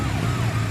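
A brief burst of a wailing ambulance siren sounds over traffic noise, fairly close and loud.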